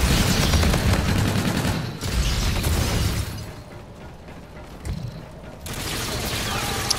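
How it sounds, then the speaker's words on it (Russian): Rapid gunfire bursts and blasts in Call of Duty Infinite Warfare, loud and dense, with a brief drop near two seconds and a quieter stretch before the shooting swells again. "Блин, в спину опять стреляют"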